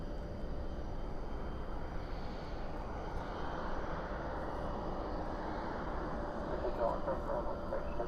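Airliner jet engines rumble steadily at night at DFW airport, a broad continuous roar holding at moderate level with a faint tonal whine, heard from a distance as an A320 departs.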